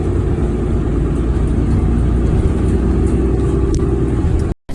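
Inside a TTC Nova LFS city bus on the move in Toronto, a steady, loud low engine rumble and road drone fill the cabin without pause, with faint rattles on top and no talking.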